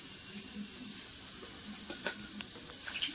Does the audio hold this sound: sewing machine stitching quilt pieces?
no